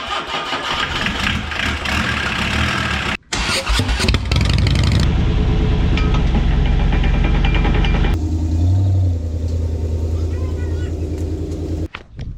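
A GMC Yukon engine cranks and catches, then settles into a loud, steady idle close by, with people talking over it.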